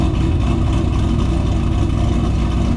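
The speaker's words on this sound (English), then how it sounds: "Just a damn good sounding car" A Ford GT500 sports car engine rumbles steady and loud at a deep idle, with a low throaty drone and no voices.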